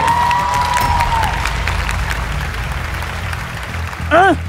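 Studio audience applause after a creative duet performance on a Vietnamese TV music show, a steady loud clatter of clapping with some cheering, ending in a brief whoop.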